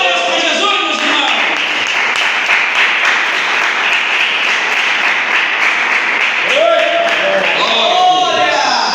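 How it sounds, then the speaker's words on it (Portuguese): A church congregation applauding during a sermon, a dense, loud wash of clapping that runs steadily throughout, with voices calling out over it. "Palmas para Jesus, meus irmãos"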